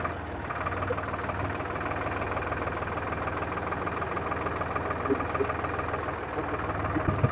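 A tractor engine runs at idle on a rough rural road, giving a steady low throbbing hum with an even mechanical knock that holds at moderate volume throughout.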